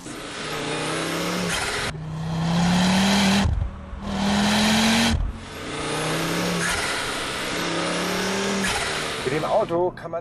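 A Ford Focus RS engine roars and climbs through several revving pulls through curves, cutting off briefly between them, loud and close.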